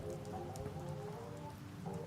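Steady rain falls in the background, a constant soft hiss and patter that runs unbroken throughout, fairly faint and even with no thunder.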